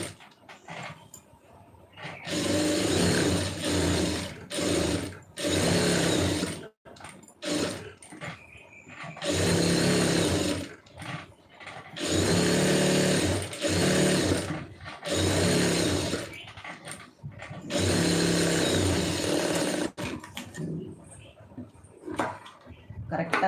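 A sewing machine runs in repeated bursts of rapid stitching separated by short pauses, close and loud, with a voice talking between runs.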